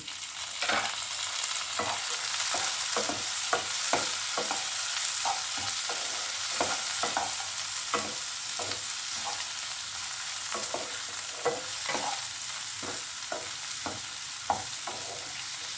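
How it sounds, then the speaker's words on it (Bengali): Chopped tomatoes and onions fry in a pan for egg do pyaza, a constant dense sizzle broken by regular spoon scrapes and taps every second or so, close and steady with no talking. "টমেটোটা ভালো করে ভাজতে হবে"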